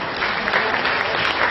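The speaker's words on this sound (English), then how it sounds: "give her applause for that" An audience applauding a storyteller, a dense, loud burst of many hands clapping at once, steady across the brief moment.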